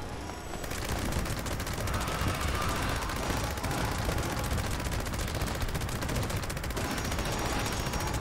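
Sustained rapid automatic gunfire from a gun in Fallout 76, a continuous loud rattling burst of shots running throughout with no pauses.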